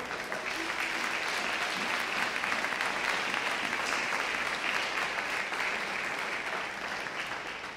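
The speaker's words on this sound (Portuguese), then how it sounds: "Vamos dar um aplauso para Jesus?" A church congregation claps together in steady, dense applause that fills the whole stretch at an even loudness, with a faint crowd murmur underneath.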